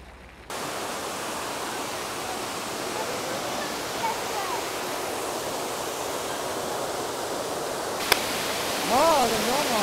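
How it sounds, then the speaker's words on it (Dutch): Waterfall pouring from a roof in Spain: a steady, loud broadband rush of falling water that starts abruptly and continues without break, with a brief voice heard faintly near the end. "Waterval uit het dak."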